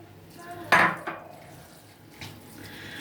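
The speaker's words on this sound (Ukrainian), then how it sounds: "Все треба старанно вимішати, щоб приправа нам вимішалася." Porridge being stirred in a pot with seasoning while making Podolian blood sausage, heard as a few scraping, clinking spoon strokes against the pot, one louder knock early on, fairly close in a quiet kitchen.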